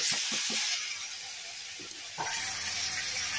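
A loud, close hiss of fish frying in hot oil, with a few soft knocks early on and the sizzle swelling again near the end.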